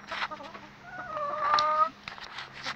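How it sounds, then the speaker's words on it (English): Hens clucking in a backyard coop during an evening roundup, a close, drawn-out cluck rising into a brief squawk, followed by a few softer murmuring clucks. "These your chickies? All your chickies are in?"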